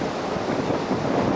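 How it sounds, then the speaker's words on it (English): Steady wind roaring across the open deck of a cruise ship on an Alaskan voyage, a dense, continuous rush buffeting the microphone throughout with no pauses. "Quite windy yet out here today"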